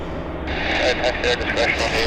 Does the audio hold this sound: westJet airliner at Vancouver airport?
yes